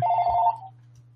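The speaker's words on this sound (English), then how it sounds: "I cannot believe my phone is ringing right now." A mobile phone ringing indoors early in the morning, one steady electronic tone sounding clearly and loud for about half a second before it cuts off, with a faint low hum left underneath.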